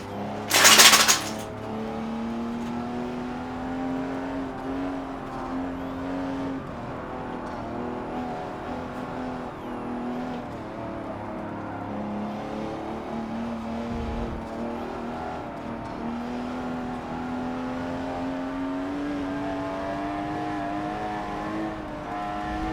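Race car engine in Forza Motorsport 7, a BMW or Porsche, droning steadily with rising and falling revs throughout, opening with a loud brief crash-like burst.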